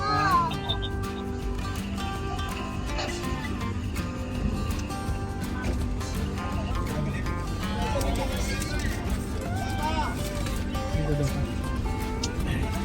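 A cat aboard a ship meows over a steady backdrop of music and voices, its calls mid-level and intermittent across the scene.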